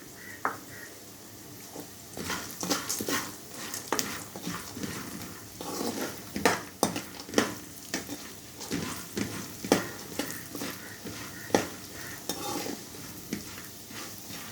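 Peanuts and chana dal dry-roasting in a pan, a soft background hiss broken by frequent scraping stirs and light rattling of the lentils and nuts against the metal, close and fairly quiet.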